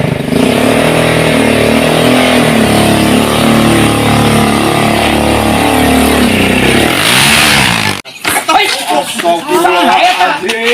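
A motorcycle engine roars loudly and steadily close by, its pitch sweeping as it passes, then cuts off abruptly and gives way to people talking.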